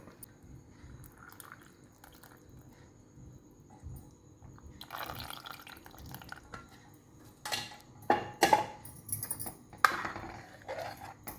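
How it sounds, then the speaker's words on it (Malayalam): Jaggery syrup pouring and splashing into a metal pot of pumpkin payasam, with clinks of utensils and a few louder sloshing bursts near the end. "ഇനി നമുക്ക് പാനി ഒഴിക്കാം ശർക്കര പാനി ഒഴിക്കാം"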